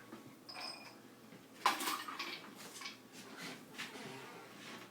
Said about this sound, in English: In the morning, we like to give Yukio these bits. So a scoop.